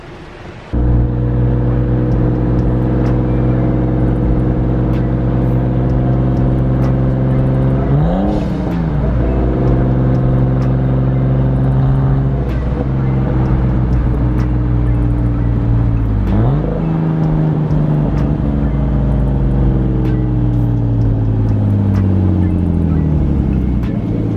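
A Nissan Skyline fitted with a full Tomei cat-back exhaust runs steadily for the whole stretch, a loud, deep, droning exhaust note with brief revs and pitch swoops near the middle and again later, close by with no talking.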